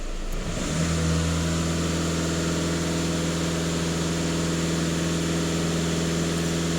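A Volkswagen Tiguan 2.0 TDI EA288 diesel engine holds a steady raised idle, a loud, even drone with a constant hum that barely changes after a brief settling at the start.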